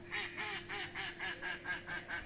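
Ducks at a pond quack in a quick, regular series of about eight evenly spaced calls, moderately near and fairly loud over a steady outdoor hiss.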